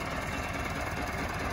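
Tractor engine idling at a farmyard, a steady low mechanical drone with faint knocking, continuous and fairly quiet for a moment.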